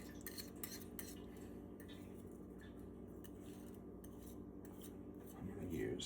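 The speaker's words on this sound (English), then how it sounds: "I'm going to whisk it." A metal whisk beats an eggplant korma mixture in a bowl, producing a steady close scraping and clinking that runs continuously and grows slightly louder near the end, with no voices.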